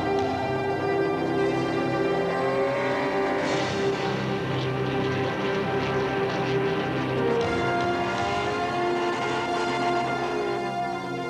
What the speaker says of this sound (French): Nous sommes à bord de la 944 Turbo Cup de Marc Sourd